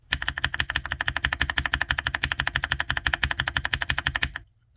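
Rapid typing on a cheap keyboard fitted with lubed brown switches: a fast, even stream of close, crisp clacks with a deep thock underneath, continuing for about four seconds before stopping abruptly.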